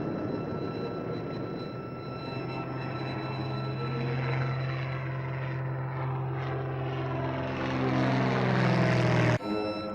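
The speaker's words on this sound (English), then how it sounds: "After the airplane takes off" A propeller airplane taking off in old film footage, its engine drone rising steadily in pitch and intensity for about nine seconds before cutting off abruptly near the end.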